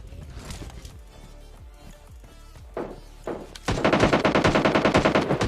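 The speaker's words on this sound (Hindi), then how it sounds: "और फिर फाइनली गोलियों की आवाज आ गई है, मतलब बंदे सामने हैं।" Scattered distant gunshots give way to loud, sustained automatic gunfire with rapid, steady bursts near the end, in a video game.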